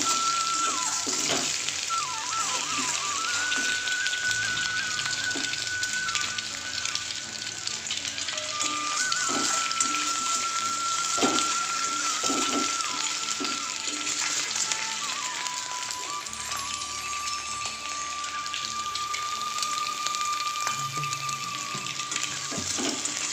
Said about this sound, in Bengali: ডিমগুলো একটু ভেজে নিই, একটু হলুদ আর নুন দিয়েছি